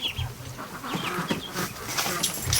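Ducklings peeping and calling in a brooder, a busy chorus of high, short cheeps layered over one another at close range.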